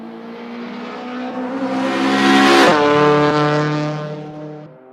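A small car's engine revs hard on a race track, climbing loud and close, then its pitch drops sharply as it passes before the buzzing note fades away.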